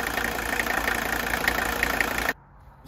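A Mercedes 300TD wagon's diesel engine idles close by with a steady clattering rumble and faint rhythmic knock, then cuts off abruptly into near silence.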